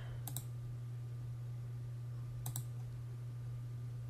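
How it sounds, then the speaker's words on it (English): Two short bursts of clicking keystrokes on a computer keyboard, about two seconds apart, sit over a steady low electrical hum in an otherwise quiet room. "I'm going to actually type on here N 5 times."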